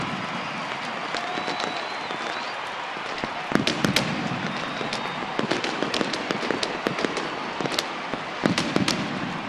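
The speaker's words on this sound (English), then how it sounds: "The fireworks went off." Fireworks burst at a baseball game, a rapid string of sharp cracks and pops over a steady wash of crowd noise from the stands.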